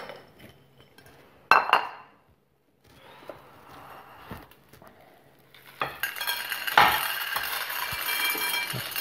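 A bowl handled in a gravel ground test setup, with sharp clinks and knocks, some loud and close, scattered among quieter scraping and handling noise, then denser rattling near the end.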